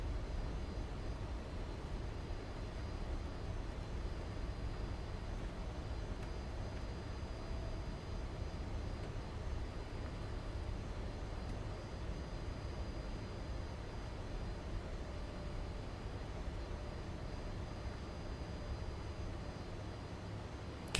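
A flight-simulator airliner's engines hold a low, steady rumbling drone during takeoff, constant and moderately quiet throughout with no change in pitch or level.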